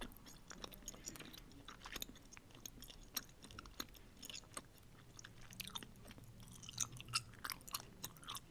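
Leftover Easter candy chewed and bitten close to the mic, soft crunches and wet mastication clicks repeating irregularly at low level with no voices.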